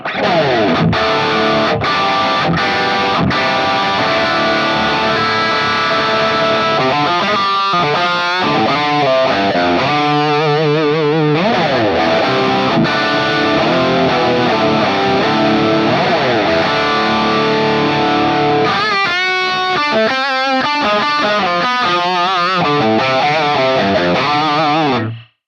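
A heavily distorted electric guitar plays chords and riffs through a Hotone Ampero clone of a Marshall Silver Jubilee amp, a bone-dry, upfront tone, continuous and loud throughout.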